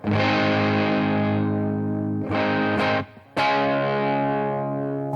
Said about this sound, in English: It's a high gain distortion pedal.